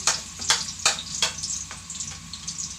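Onion and garlic frying for homemade pansit, a close, continuous sizzle broken by several sharp bursts of crackling and spatter as the pan is stirred.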